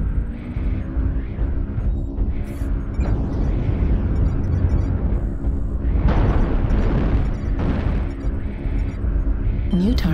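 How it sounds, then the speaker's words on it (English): Artillery strike explosions in a video game, a continuous rumbling barrage of booms with swelling blasts around the middle, loud and close, with a voice briefly speaking alongside. "Artillery strike online."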